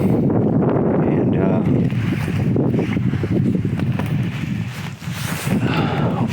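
Strong outdoor wind buffets the microphone during a rifle deer hunt, a loud, continuous low rumble and roar that swells and dips, with a voice partly masked beneath it.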